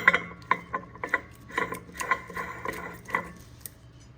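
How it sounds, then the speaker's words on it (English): A Cinetech BSF Hydra motion picture film cleaner has film hand wound onto its take-up core, producing a series of light mechanical clicks and ratcheting ticks at an uneven rhythm, close and fairly quiet. "just hand wind it on for a few turns to make sure it's engaged properly with the core on the take-up side of the machine"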